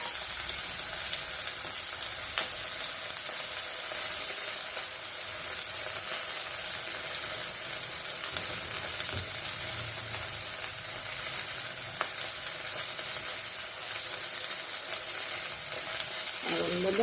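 Fenugreek leaves frying in a pan for an eggplant kalonji, a steady hiss of sizzling oil that stays even and moderately close throughout, with no clear speech over it.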